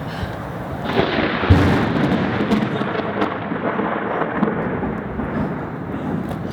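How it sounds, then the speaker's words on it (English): Thunder rumbles through a storm, a sudden crack followed by a long, heavy rolling roar that fills the scene and slowly tapers, with no voices. "Thunder scared the crap out of all of us."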